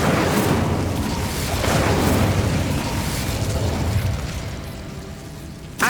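An Incendio fire spell from Hogwarts Legacy lets out a rough, sustained burst of roaring flame that rumbles for several seconds, fades slightly, then ends with a short sharp pop.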